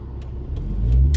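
A truck at a traffic light pulls away and drives past, its engine rumble swelling from a steady idle to a louder, closer roar by the end, with no talking.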